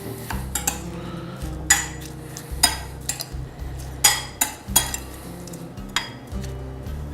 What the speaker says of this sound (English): So just give that a mix.